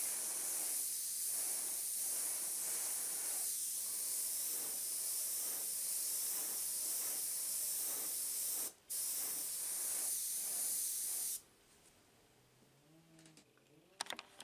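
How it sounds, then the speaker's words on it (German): Airbrush spraying paint in a steady, close hiss over a cigarette box motif, running nearly continuously with one brief break before the spray stops and quieter handling follows. "Nachdem ich die Stellen herausradiert habe, überbrusche ich das Ganze nochmal leicht."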